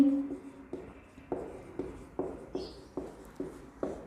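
Pen or chalk writing notes during a chemistry lecture, a series of short, regular scratchy strokes close by, fairly quiet, with a few faint voice sounds in the background.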